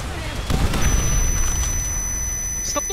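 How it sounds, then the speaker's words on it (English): A grenade blast in Call of Duty: World at War co-op bursts as a loud, close boom early on, then decays into rumbling gunfire and game noise while players talk. "Stop throwing grenades up here, Jesus."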